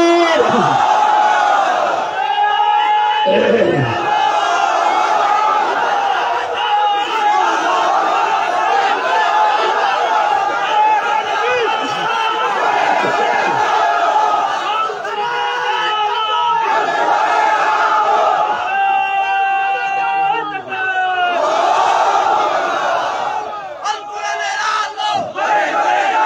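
A large crowd at an outdoor Islamic waz gathering in Comilla roars the takbir chant back in loud, sustained unison, swelling and falling in repeated waves with shouted voices layered over one another.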